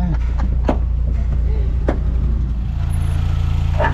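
Engine of a Volkswagen Kombi van, rebuilt after a fire, idling steadily with a low, even hum close by, a few faint clicks and knocks over it.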